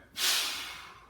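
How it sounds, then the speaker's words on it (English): A single sharp, close breath pushed out hard during a standing cable rear delt fly, a brief airy rush that swells quickly and fades slowly over about a second. "Breathe in, out,"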